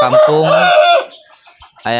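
Free-range village chickens at a home-scale farm cluck loudly and close for about a second, go quiet, then break into another sharp burst of clucking at the end.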